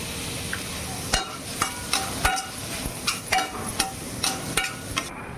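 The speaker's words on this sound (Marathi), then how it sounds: "आता कांदा भाजण्याकरता आपण थोडं मीठ घालूया, म्हणजे तो कांदा छान फ्राय होऊन जाईल" Sliced onion with salt frying in a kadhai, a steady sizzle under repeated sharp scrapes and taps of a spatula against the pan at an even rhythm.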